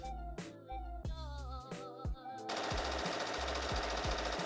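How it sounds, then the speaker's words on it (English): A sewing machine stitches dress lining along a basted line with a trim edge, in short rhythmic bursts that lead into a longer steady run of stitching. The whirring sounds close and mechanical, with no talking. "I'm going to sew this on the other side so that we can follow the basted line that we just sewed."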